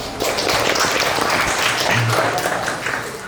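A crowd applauding steadily, a dense wash of clapping from many hands that holds at a constant level throughout.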